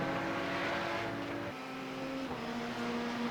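Porsche race cars in a racing video game at Spa-Francorchamps roar together in a close battle, engines droning steadily with shifting pitch as they fight for the lead, loud and continuous with no talk.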